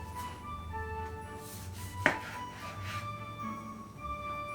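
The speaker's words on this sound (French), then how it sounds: "je viens donc les couper en deux et les vider directement dans un plat" Cooled cooked potatoes cut in half on a board, a single sharp knife chop standing out against quiet kitchen background, with faint handling sounds around it.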